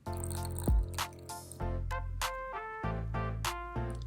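Sourdough starter being stirred with equal parts water and flour in a container, wet squishing and dripping sounds with a few clinks, close and intermittent, no talk.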